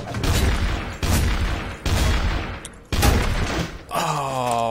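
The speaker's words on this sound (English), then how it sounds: "There was a firefight." Gunfire in a video game firefight comes in four heavy, loud bursts at roughly one-second intervals, each a booming blast that decays before the next, ending in a ringing tonal sound.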